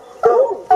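Hunting hounds on a fox hunt giving two quick barks close by, a short yelping bark followed by a second after a brief pause.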